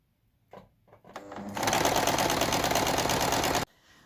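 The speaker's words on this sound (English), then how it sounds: "sewing the binding to the right side on the sewing machine" A sewing machine stitches binding onto the right side of a quilted reversible vest, starting with a few short clicks and bursts, then running fast and steady for about two seconds before stopping abruptly.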